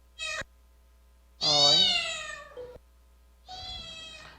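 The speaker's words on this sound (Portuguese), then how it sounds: "Agora o próximo, que é do gatinho, né?" A recorded cat meows three times, played back in a classroom-style sound-identification activity: a short first call, then a longer, louder drawn-out meow, and a final softer one, separated by silence.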